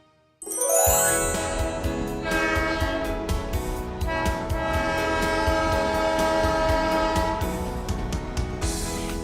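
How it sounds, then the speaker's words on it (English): Toy train sound effect from a children's toy story: a loud train horn blasts over steady rolling clatter with jingling tones, continuous and close for about nine seconds, no voices. "That's right, it was a train."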